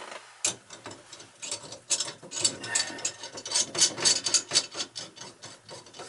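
Sloan flushometer fittings on a leaking toilet being tightened by hand, giving close, loud, irregular scraping, ratcheting and metal rubbing bursts that repeat throughout, with no voices.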